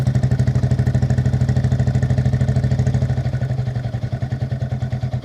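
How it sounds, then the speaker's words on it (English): A narrowboat's small three-cylinder diesel engine chugs steadily nearby, a fast even low throb that carries on without break and softens slightly toward the end. "he's got a beautiful little engine, 3-cylinder diesel."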